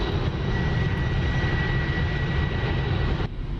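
A fighter jet's engine rumbles steadily while taxiing in the flight simulator DCS, a loud, close, continuous roar with a faint high whine, cutting off abruptly just before the end.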